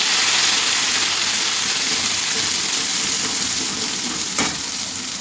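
Oil and masala frying for fish, a loud, continuous close sizzle that stays steady throughout, with one brief tap near the end and no talking.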